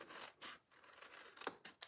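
Scissors with glue on the blades cut through material in a series of about six quick, soft snips in an uneven rhythm, close and quiet, with no talking.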